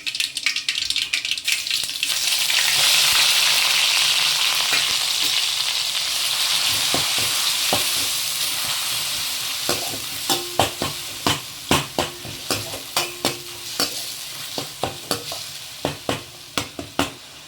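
Onions frying in a pan for a home-style fish curry give a steady, loud sizzle, joined later by a run of sharp, rhythmic spoon clacks as they are stirred. No one speaks.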